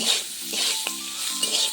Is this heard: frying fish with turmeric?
yes